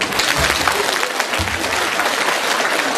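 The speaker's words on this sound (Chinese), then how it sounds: "鼓掌。" An audience applauding at a spiritual teaching session, dense continuous clapping from a crowd, loud and sustained throughout.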